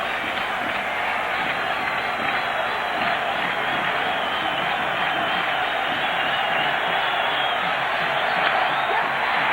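Stadium crowd noise at a Yankees at Oakland baseball game, a steady roar of cheering and voices from a large audience, with an announcer talking over it.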